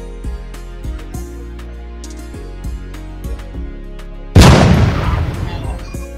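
A single heavy cannon blast from a five-cannon salute bursts in suddenly after several seconds of low, rhythmic thudding tones. The boom rolls and fades slowly and is loud and close.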